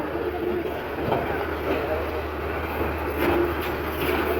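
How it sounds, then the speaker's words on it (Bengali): Two trains, including the Titas Commuter, pull out of Brahmanbaria railway station with a steady rolling rumble and faint clatter of wagons, while crowd noise and voices mix in nearby. "দুটি ট্রেনই ব্রাহ্মণবাড়িয়া রেল স্টেশন ছেড়ে যাচ্ছে।"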